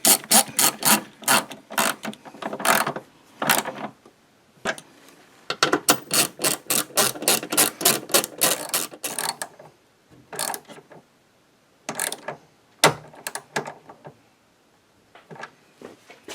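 A ratchet tightens fasteners while a Chevy Equinox windshield wiper transmission is reassembled, giving runs of quick, close mechanical clicks that stop and start, with short pauses and a few isolated clicks toward the end.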